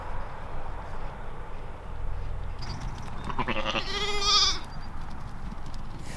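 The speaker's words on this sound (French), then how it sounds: "On a des moutons" Sheep kept among vineyard rows bleat in a single wavering, nasal call that swells to a loud peak midway, rising out of steady outdoor background noise and fading after a second or two.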